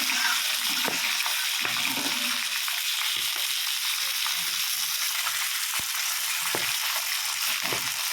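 Pieces of fish belly sizzle steadily in hot oil in a kadai, a loud continuous frying hiss broken by a few soft clinks and taps.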